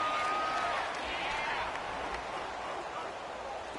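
A stadium crowd roars in a PS4 American football video game ahead of a big third down, a broad, sustained wall of cheering and hubbub that stays loud and eases off only slightly.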